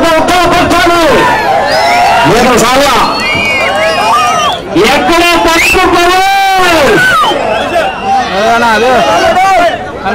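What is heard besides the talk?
crowd of farmers cheering and shouting at bull pulling contest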